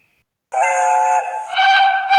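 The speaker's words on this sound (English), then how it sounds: "The guard blew his whistle." After a brief silence, a railway guard's loud, sustained whistle sounds, shifting pitch partway through before cutting off abruptly.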